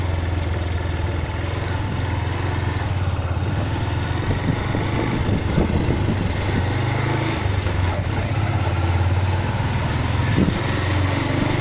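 A motorcycle engine idles steadily at night beside a highway, a continuous low rumble held at an even level for the whole stretch without any revving.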